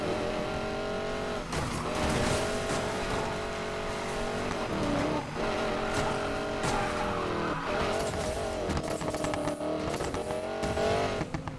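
Street-racing cars roar through a Need for Speed Payback race, engines droning steadily at high revs and tyres squealing again and again, loud and continuous with no pause.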